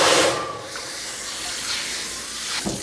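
A hot new wok is rinsed with water, giving a strong steady hiss of steam and spray that starts loud and then settles into a continuous sizzle close by, with no talking.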